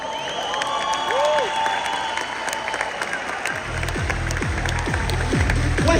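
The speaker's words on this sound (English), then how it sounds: "And give yourself a round of applause." A large convention crowd claps steadily in a dense, sustained roar of applause at a trading club event, with a low booming rumble joining partway through.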